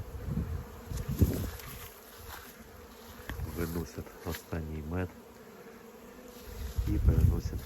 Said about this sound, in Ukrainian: Працюють бджоли.